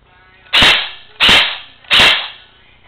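Three sharp, loud airsoft gun shots without a silencer, evenly spaced about three-quarters of a second apart, each a crisp snap with a short decay.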